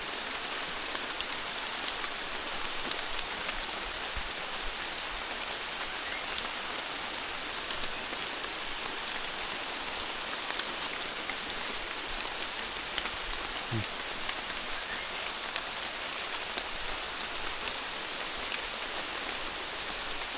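Steady, dense rainfall hisses continuously, pattering hard on surfaces with no pauses.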